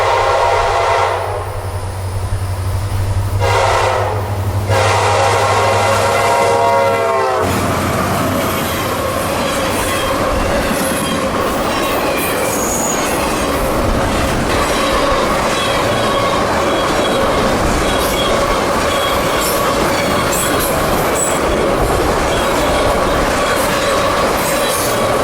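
Freight train Q213 hauling brand new automobiles, led by an SD40-3 square cab rebuild locomotive, sounds its horn loudly up close, then rolls past in a long continuous roar of engine, wheels and squealing rail cars.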